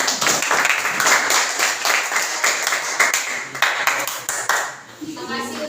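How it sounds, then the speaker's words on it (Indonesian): Classroom applause for a discussion group rings out as brisk, steady clapping from several people, fading near the end as a voice speaks over it. "berikan aplaus dulu untuk kelompok yang sedang diskusi"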